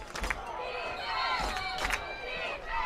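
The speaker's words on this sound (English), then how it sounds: "Now you hear the crowd." Loud stadium crowd roar at a college football game, swelling and surging continuously, with scattered shouts and cheers rising through the din.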